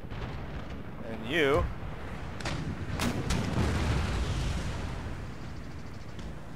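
Cannon and artillery fire from a large battle in the strategy game Empire: Total War, booming thuds and blasts spread across the scene under a steady din, with a brief spoken remark.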